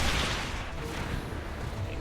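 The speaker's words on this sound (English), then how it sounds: "Things blow up. Explosions!" Explosions in the video game XCOM 2 fill the clip with a dense, continuous roar of blasts and rumbling debris, loud and sustained from start to finish with no pauses.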